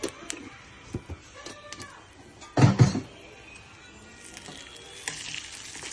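Chana dal, urad dal, mustard seeds and cumin drop into hot oil for tempering, sizzling faintly with a louder burst of spattering in the middle, then settling to a soft crackle along with a few clinks.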